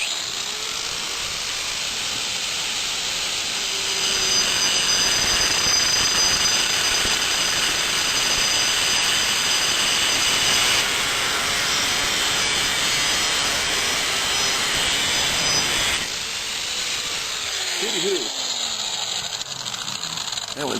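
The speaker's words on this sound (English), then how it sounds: "I want to use both hands to steady and guide the cutting wheel so I don't make any mistakes" A cutting wheel grinds through bicycle cantilever brake posts in a loud, sustained abrasive rasp lasting most of the clip, easing off near the end with a few lighter scrapes.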